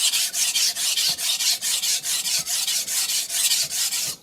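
A German steel cook's knife is drawn across a Shapton Kuromaku 320 whetstone in quick, regular rasping strokes, about three per second, close and loud, with no voices.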